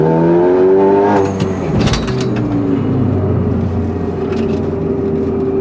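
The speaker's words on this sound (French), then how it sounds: "Gros turbo, petit moteur. Regardez en deux, plein gaz. Il y a du lag là." A Renault Megane IV Trophy R with a small engine and big turbo, Stage 3 tuned to about 400 hp, accelerates at full throttle with turbo lag: a rising engine tone, a sharp shift-like break, then a strained, sustained pull close by.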